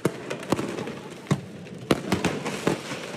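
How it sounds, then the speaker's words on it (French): Firework mortars fired at a police station in central La Courneuve, a rapid series of sharp, loud bangs and cracks at irregular intervals over a continuous crackling, rumbling outdoor background, with no speech. "Pendant près de 15 minutes, sans interruption, des mortiers d'artifice sont tirés hier soir en plein centre de La Courneuve"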